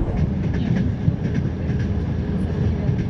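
A train rolls along a railway line, a steady low rumble with rhythmic clattering of wagon wheels over rail joints, continuous and fairly close throughout.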